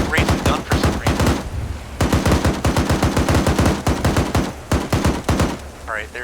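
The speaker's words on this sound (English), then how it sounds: "We're taking fire aft." Rapid bursts of machine gun fire in a military video game, loud and sustained in repeated volleys, with a brief voice at the end.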